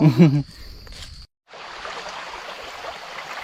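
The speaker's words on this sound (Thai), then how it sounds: "น้ำไหลเย็นสบายพี่น้อง" A forest stream flows in a steady, close rush of water that fills the clip after a brief voice and a short gap at the start.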